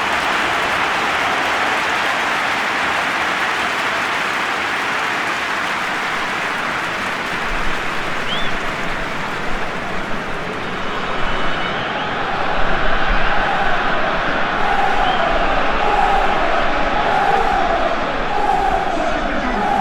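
Stadium crowd in a PES 2021 match, a broad steady roar of applause and cheering that swells partway through, heard under a commentator's voice.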